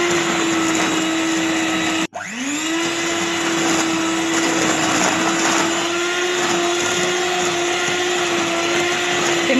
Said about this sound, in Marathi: आणि आता आपण स्टार्ट करूया आपली व्हिपिंग।